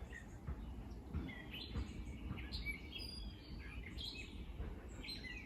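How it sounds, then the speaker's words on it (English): Birds chirp and tweet in scattered bursts outdoors, faint over a steady low rumble of background noise. "Turn the sound up, you can hear the birds."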